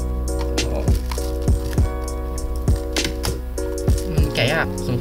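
Someone struggling to open a concert boxset package: repeated crinkling, tearing and thumping handling noises in short bursts, mixed with background music.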